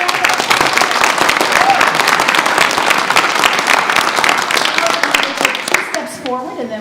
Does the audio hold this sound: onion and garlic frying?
no